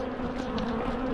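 Angry honeybees buzz at an apiary hive in a dense, steady drone, loud and close, with no voices.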